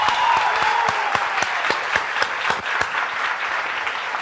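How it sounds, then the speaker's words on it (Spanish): A crowd applauds for J. Rey at a live-streamed Spanish-language celebrity gossip and news show, a dense, steady clapping with sharp individual claps standing out, sustained at an even level throughout. "Un aplauso para J. Rey"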